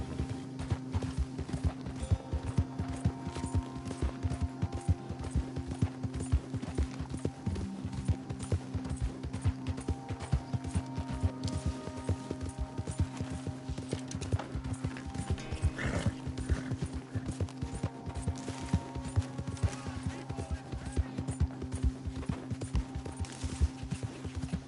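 A horse ridden in Red Dead Redemption 2 trots with rapid, regular hoofbeats close by, heard alongside creaking tack, a low hum and occasional neighs, with no talking.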